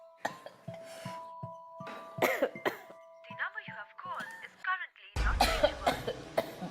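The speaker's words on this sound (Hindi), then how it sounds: "इतनी खांसी क्यों आ रही है?" Several harsh coughs and throat-clearing bursts break up a stretch of background talk and chiming tones, ending with a louder, rougher cough sequence up close.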